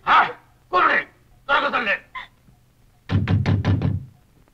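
Knocking on a latched door comes in distinct bursts, a few separate raps followed by a quicker cluster of four or five, close and fairly loud, with a voice between them.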